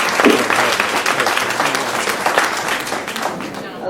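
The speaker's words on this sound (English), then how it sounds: "I just wanted to give them all a round of applause." Audience applause at a Lions Club awards evening, a steady, full wash of clapping from a roomful of people that holds for the whole stretch, with faint voices mixed in.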